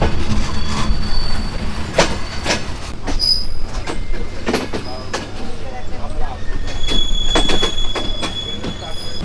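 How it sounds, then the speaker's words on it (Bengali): A train entering Khulna station rumbles along with steady low noise and faint clanks, thin high wheel squeals ringing out now and then as it slows; voices murmur underneath. "এখন ট্রেনে স্টেশনে প্রবেশ করছে ট্রেনটা।"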